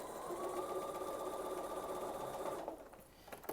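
A sewing machine stitches over a seam line on fabric for a silly socks project, a close, steady motor whir with rapid needle pulses that runs evenly for a few seconds and then stops, leaving quiet room sound.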